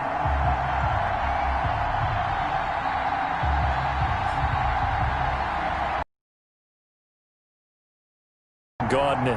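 A stadium crowd at a Dallas Cowboys versus Houston Texans football video game roars in a steady, dense wash for about six seconds, then cuts to silence before briefly returning.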